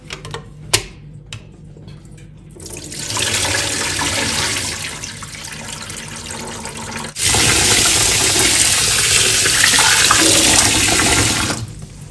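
Tap water gushes steadily while rice is washed in a kitchen, after a few light clicks; one sustained rush stops briefly, then resumes louder and continues alone without any talking.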